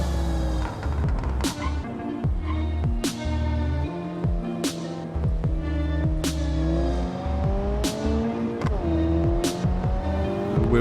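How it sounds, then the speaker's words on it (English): Car engine revving through the gears with wheel spin on an ABS-equipped base car lacking traction control in the BeamNG.drive game, loud and continuous with rising pitch sweeps and sharp shift breaks every second or so. "Wheel spins for the gears, what you expect from a car like this."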